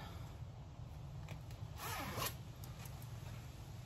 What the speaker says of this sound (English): Zip up,